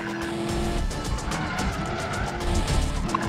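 A car driven wildly in the video game Medal of Honor Warfighter, its engine roaring steadily with screeching tire skids throughout, loud and close amid game sound effects.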